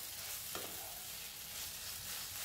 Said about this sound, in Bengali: এবারে আলুটা ভাজা ভাজা হয়ে গেছে কিছুক্ষণ